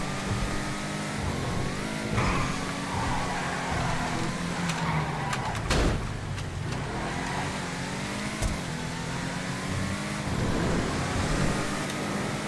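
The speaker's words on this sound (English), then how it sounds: "We'll hoon this around a little bit to get used to the car." Hotring Hellfire race car driven around Mount Chiliad in a video game, engine droning and revving through gear changes under a continuous roar of road and wind noise over several seconds.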